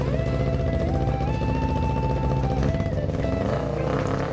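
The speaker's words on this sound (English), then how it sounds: "With the new muffler in place, I fired up the engine." A Kawasaki Ninja 250 engine in a homemade go-kart runs steadily with a new muffler fitted, a loud continuous drone whose pitch shifts slightly as it revs, with no pauses throughout.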